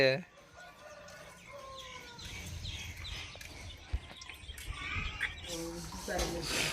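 Chickens clucking and a rooster crowing nearby outdoors in a village, several calls scattered over a few seconds while people talk in the background.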